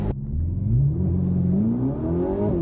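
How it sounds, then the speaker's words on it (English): Lamborghini engine revving close by, a sharp onset then a rising, throaty drone that climbs in pitch as it accelerates, loud and continuous with no voices over it. "You can hear the crackles, the pops."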